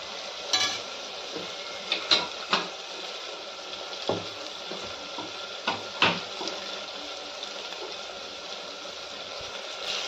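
Onion, tomato and green chillies sautéed in a pan for mutton biryani, giving a soft steady sizzle with a few sharp stirring scrapes and clinks of a spoon against the pan, close by with no talking.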